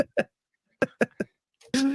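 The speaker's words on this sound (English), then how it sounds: "Did you just clear your throat? No, I coughed." A few short, sharp coughs close to the microphone in a quick burst, followed by a brief voiced sound.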